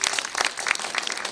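A short burst of audience applause at a film guest-visit talk, many hands clapping briskly and fairly loud for just over a second.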